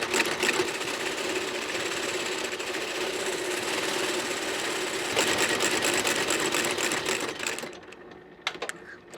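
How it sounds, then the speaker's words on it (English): A shoe repair sewing machine stitches a shoe in a small-town cobbler shop, a rapid loud mechanical clatter running continuously up close, then stopping abruptly with a few brief clicks and knocks after. "Now we got to make sure we stitch this good for you."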